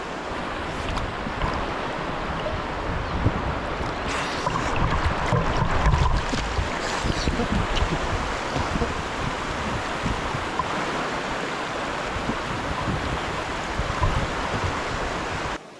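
Waves wash steadily along the shore at a Konkan village in Devgad, a continuous broad rush of surf and wind with no voices.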